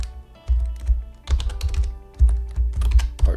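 Typing a password on a computer keyboard, with close, crisp key clicks in several quick bursts separated by short pauses.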